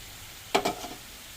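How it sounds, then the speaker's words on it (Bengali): Palm fruit fritters in hot oil, one brief scrape-and-sizzle burst of two quick strokes over a low steady frying hiss, close and quiet. "এখন এগুলো ভেজে নেব।"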